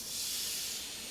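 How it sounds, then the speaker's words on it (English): Tuna sears in a hot pan with a bright, steady sizzling hiss, close and continuous, with no talk during the brief stretch. "Alright, hear that sizzle? That's what you want."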